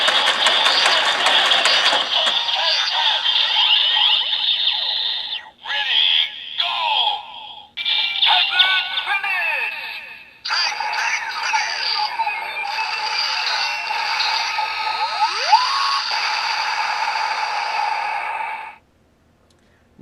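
Electronic sound effects and chiming tones from a DX Full Full Rabbit Tank Bottle transformation toy, played alongside a second device, bursts of busy bright sound with short pauses, ending in silence.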